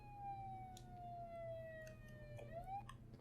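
An ambulance siren in the emergency-services video game Flashing Lights wails as a faint, slowly falling tone, then sweeps back up near the end.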